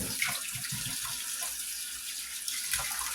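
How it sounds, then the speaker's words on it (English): Warm tap water runs steadily into a sink while meat is rinsed under it, a continuous close hiss with small splashes and gurgles as the pieces are moved around. "Put them in that warm water."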